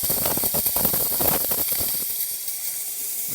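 A Pasquini espresso machine's steam wand blows steam into a bucket, a loud rough hiss with sputtering bursts that thins to a quieter, steadier hiss.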